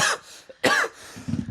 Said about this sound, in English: it's going to be full of editing my coughs out